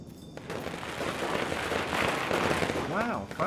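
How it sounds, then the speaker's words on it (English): Firecrackers crackle and pop in a dense, continuous burst of sharp snaps inside the video game Nine Sols, loud and sustained across the whole moment, with a voice also speaking. "Wow, firecrackers."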